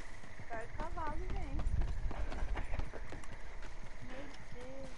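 Rapid hoofbeats gallop steadily in Red Dead Redemption under voices talking and exclaiming, with game horse sounds mixed in.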